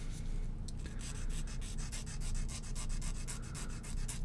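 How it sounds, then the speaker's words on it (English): Metal hand file rasping burrs off the cut end of a wristwatch crown stem, a quick regular series of short scraping strokes, close and steady throughout with no talk. "use your file to file off the rough edges, the burrs"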